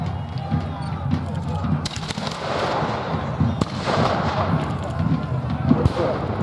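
Cannon blasts at a Civil War battle reenactment at Cheriton ring out as several sharp, booming reports spaced a couple of seconds apart, set over a constant rumble of outdoor battlefield noise and crowd.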